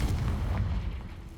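A Confringo blasting spell explodes in the video game Hogwarts Legacy, a single short, loud, booming burst with a rumbling low end that fades over about a second.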